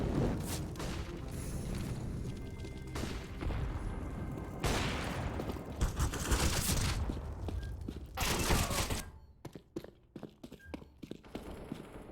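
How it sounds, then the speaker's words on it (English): Gunfire and explosive bursts from a video game match, loud cracks and booming blasts in rapid clusters, followed by a quieter stretch of scattered sharp pops. "Flashbang."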